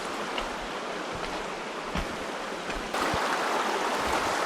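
A river runs over rocks in Tettegouche State Park on Minnesota's North Shore, giving a steady broadband rush and gurgle that swells slightly louder toward the end, with no voices.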